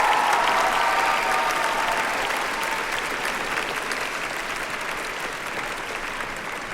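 Audience applause at a children's choir concert, the Nashville Children's Choir 30th anniversary show: dense, steady clapping from a large crowd that fills the clip and slowly tapers slightly in loudness.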